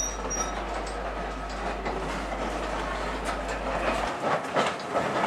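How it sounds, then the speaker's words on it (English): A train departs a station and rolls past heading south with a steady, broad rumble and faint rhythmic clatter of wheels on track, the noise shifting slightly near the end. "Here Karen maintains watch as the train heads south."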